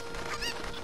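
A cucco, the chicken in the video game Zelda: Ocarina of Time, lets out a loud, harsh squawking cluck in one short burst, close and alone.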